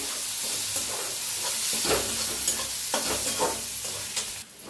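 Coriander powder, turmeric, red chilli powder and green chillies frying in oil in a pan as a spoon stirs them, a steady close sizzle with scraping strokes, no voices.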